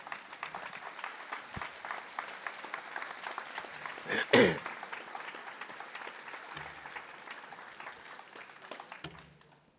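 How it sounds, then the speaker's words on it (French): An audience at a New Year's civic ceremony applauds the youth council, a soft, steady patter of many hands throughout, with a brief louder burst near the middle and some murmured voices. "vous pouvez les applaudir parce qu'ils travaillent vraiment bien"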